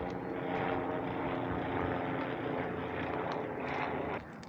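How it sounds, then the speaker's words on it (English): A helicopter passes over a farm during chores near a burn pile, its steady rotor and engine drone loud and constant for several seconds before easing off slightly at the end, with no talking. "There's a helicopter coming."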